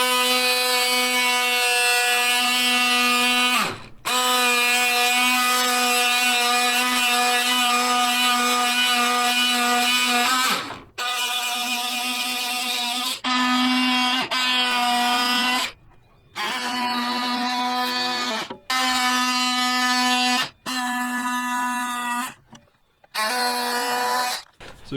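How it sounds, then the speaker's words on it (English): An oscillating cutoff tool cuts through the plastic front bumper of a 2004–2012 Chevrolet Colorado or GMC Canyon, giving a loud, steady buzzing whine in several long passes with brief pauses between cuts. "take my little buzz saw here, or little oscillating sander or oscillating cutoff tool, and we can kind of lay it up here against the plastic and cut this all off."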